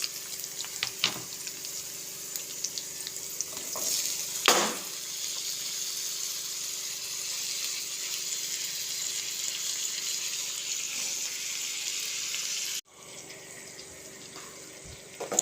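Tomato pieces go into a pan of toasted raw lentils and fry with a steady, close sizzling hiss. A brief clatter comes near the start, and the sound drops abruptly before the end.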